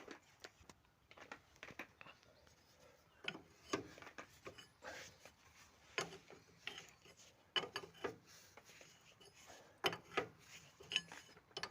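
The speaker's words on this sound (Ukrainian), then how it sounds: "Візьму ключ затягнути, як має бути." A wrench tightens a nut on a car's steering tie rod during a swap to silicone tie rod boots, giving irregular bursts of close metallic ratcheting clicks with short pauses between turns.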